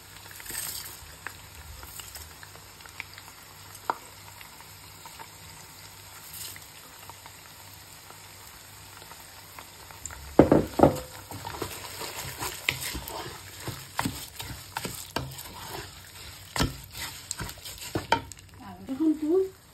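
Rice poured into a hot pan with meat and stirred while frying, a steady soft sizzle with scraping stir strokes growing busier and louder partway through, no talk.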